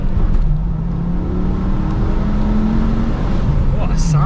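A Volvo T5 car engine, an ex-police car, revs and pulls hard, a steady rising drone close by that fills the whole moment.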